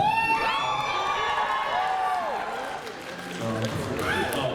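A crowd at an Asian dance showcase cheers, with high-pitched whoops and shouts rising over a steady roar of voices throughout, and a few louder yells near the end.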